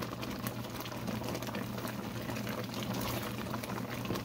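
Calamondin orange marmalade boiling in a pot, a dense continuous bubbling and popping that stays steady and close throughout, with no voices.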